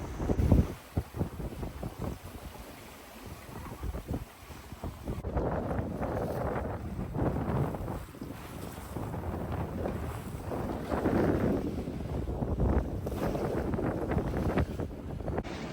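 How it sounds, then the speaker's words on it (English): Gusty wind buffets the microphone on a sailboat doing about 6 knots off St John, a continuous rushing roar that swells and eases with faint sloshing beneath it. "Really nice wind today."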